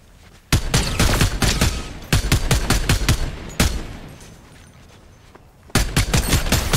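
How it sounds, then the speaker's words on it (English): Rapid bursts of gunfire from a Fortnite duos match, several loud volleys of sharp shots separated by brief lulls, with no talk over them. "I just headshot him with a sniper"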